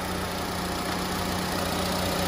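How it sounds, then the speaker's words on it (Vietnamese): A Mitsubishi car engine idles smoothly and steadily at close range, a constant low hum with no revving or speech. "Máy nổ rất là êm máy"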